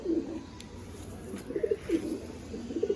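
Madrasi pigeons cooing close by, a few soft low throaty coos in short bursts over a quiet background.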